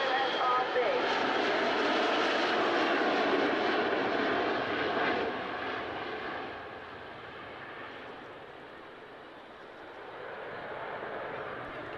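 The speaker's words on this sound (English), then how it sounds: "the aircraft's going to come past us, and this is in landing configuration, just above landing speed" Aircraft G-OSRB flying past in landing configuration just above landing speed: a steady, broad engine roar, loud at first, then slowly fading and swelling slightly again toward the end.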